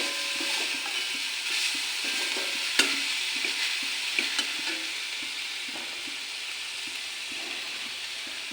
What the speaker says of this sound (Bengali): চিনিটা নারিকেলের সঙ্গে মিশে নিই